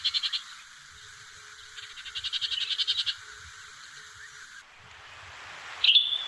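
Recorded bird calls: a repeated rapid chattering trill in bursts, followed by a sharper, brighter Western Tanager burst near the end, with no voices.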